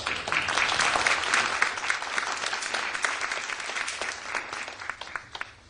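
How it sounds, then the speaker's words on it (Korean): An audience at a Kwanhun Club debate forum welcomes the Democratic United Party leader with sustained applause, dense crowd clapping that holds steady and then thins into scattered claps as it tapers off. "박수로 맞아주시죠"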